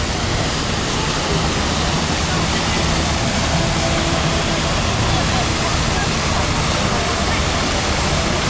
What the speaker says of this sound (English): we'll quickly go over to this fountain before we start heading down towards Whitehall, because there seems to be more water coming out of that one than that one